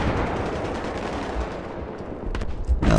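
Rapid gunfire in the video game Battlefield 3, with dense automatic bursts crackling steadily at close range and a couple of sharper, louder shots near the end.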